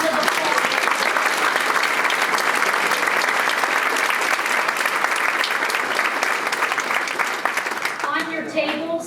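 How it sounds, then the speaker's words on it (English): Guests at an annual dinner event give a big round of applause for a honoree and her team, full and sustained clapping throughout, with a voice starting to speak as it tapers off at the end. "let's give Maddie Pulchero and her team a big round of applause"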